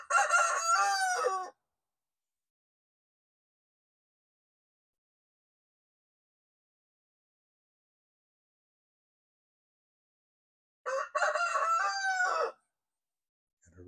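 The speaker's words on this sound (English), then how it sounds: "Got a rooster over here that's holding pretty still." A rooster in a backyard chicken flock crows twice, loud and near, a long cock-a-doodle-doo at the start and another about ten seconds later, with silence between.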